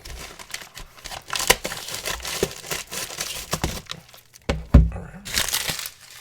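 Packaging around a video game is sliced and peeled open at close range, producing dense crinkling and crackling plastic with sharp snaps and a louder crunch near the end.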